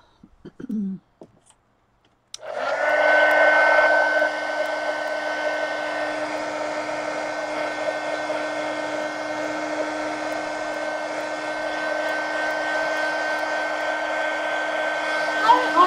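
Hair dryer blowing over wet paint on a mixed media pumpkin collage, switching on after a brief sound and then running as a steady loud whir, alone and without talk.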